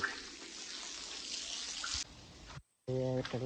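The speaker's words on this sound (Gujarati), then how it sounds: "તો આ રીતનું પાણી છાંટવાનું છે" Water is sprayed in a steady, broad hiss for about two seconds, fairly close. After a brief silence, a person starts talking.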